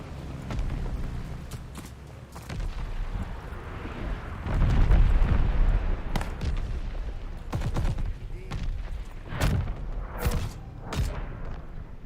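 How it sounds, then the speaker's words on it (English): Call of Duty Vanguard bombing run: heavy booming explosions build to a loud, rumbling peak, followed by scattered sharp blasts and gunshots, with little talk. "Allies called a bombing run."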